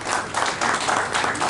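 Applause from the audience at a certificate ceremony, a short burst of steady clapping from a seated crowd, fairly close and uniform throughout.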